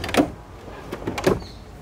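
A homemade pull-out drawer in a camping kitchen built into a Chevrolet Tracker 4x4 is pushed shut, giving a few short sliding knocks and a final latching clack, close and moderately loud with no talking.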